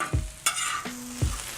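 Potatoes frying in a pan for carne con papas are stirred and flipped, giving a few close, quick scraping strokes over a soft sizzle, with no talking.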